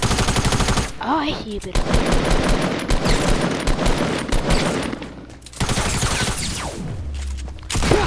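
Rapid bursts of automatic gunfire dominate a shooter video game battle, loud and continuous with brief gaps, while a player talks over the shooting.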